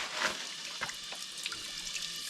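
A small Patkai waterfall flows in a steady, soft rush of falling water, fairly faint and continuous with no talk.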